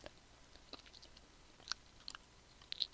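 Gum chewing close to the mic, faint and sparse: soft wet clicks and smacks scattered over quiet background, with no talking.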